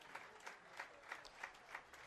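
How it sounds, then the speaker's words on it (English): Football fans at a varsity high school game, Fishers at Avon, applaud an injured player as he is carted off the field, a soft, distant ovation with rhythmic claps swelling and fading. "getting a nice ovation from the fans here, who are wishing that young man well"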